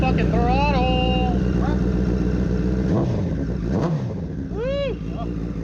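Engine revving through a Two Brothers exhaust in a shop, a loud, throaty idle broken by several quick throttle blips that rise and fall in pitch, with people talking over it.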